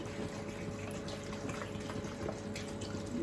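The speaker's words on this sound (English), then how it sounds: "I'm going to just add water" Water poured from a bottle into a large stock pot holding two chicken carcasses, a steady low splashing and trickle running throughout at close range, with a faint hum underneath.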